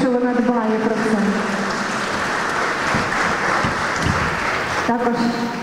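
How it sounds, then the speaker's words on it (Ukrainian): An audience applauds at a Christmas carol festival concert, giving a sustained, even wash of clapping. A speaking voice can be heard briefly at the start and again near the end. "вашої овації"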